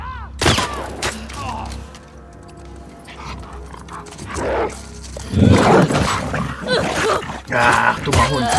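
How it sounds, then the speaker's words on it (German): A dog barks in the video game The Last of Us Part II, with sharp, loud barks amid gunfire-like bursts and game sounds while a player talks over them. "Ach, dummer Hund."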